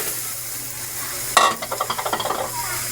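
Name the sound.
sponge gourd (patola) added to the pan, frying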